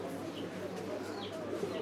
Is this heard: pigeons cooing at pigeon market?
yes